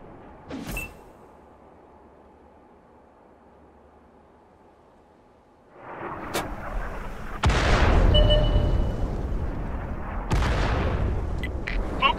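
An M44 self-propelled artillery gun fires in the tank game World of Tanks, a faint thump early on, then several heavy booming shots with rumbling tails that fill the second half, close and loud.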